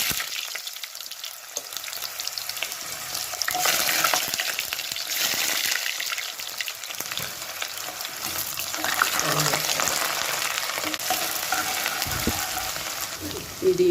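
Whole garam masala, fennel seeds, onion and curry leaves hitting hot oil for a mutton curry, a loud, dense crackling sizzle that swells and holds steady, with occasional stirring scrapes.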